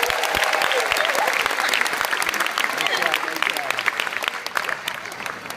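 Sustained applause from a graduation audience at Colegio de San Juan de Letrán, dense and steady clapping filling the hall at an even loudness throughout.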